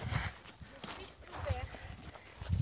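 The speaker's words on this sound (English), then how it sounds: "He's an Arabian horse with a lot of character." An Arabian horse just after a bath, its hooves clip-clopping in a few dull, uneven thuds close by, partly buried under a person talking.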